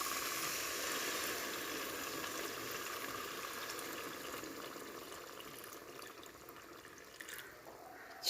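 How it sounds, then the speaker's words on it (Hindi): Water poured into a pan of fried masala gravy for a potato and egg curry, a steady rushing splash that gradually softens, followed by a faint clink at the end. "अब इसमें मैं पानी डाल देती हूँ"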